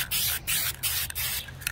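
An almost empty can of red spray paint hisses in four or five short bursts separated by brief pauses, close and fairly quiet, with no one talking.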